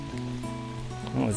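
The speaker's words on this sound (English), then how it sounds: "Rainy September day." Rain falls on a September day by the Vedder River during a salmon fishing trip, a steady close hiss with a low tonal hum running underneath.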